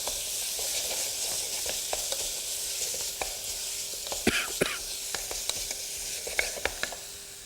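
Jarred lemongrass sizzles steadily in a hot pan, a constant close frying hiss broken by sharp crackles and spits that grow more frequent toward the end, with no voices.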